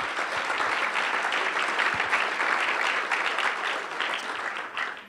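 An audience at a tech center summit gives a steady round of applause for startups after a pitch session, continuous dense clapping with no talk that fades slightly at the end.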